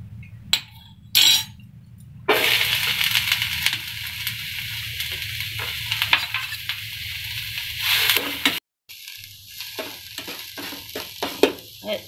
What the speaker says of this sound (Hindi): सब्जी को पहले थोड़ा सा फ्राई कर लेंगे।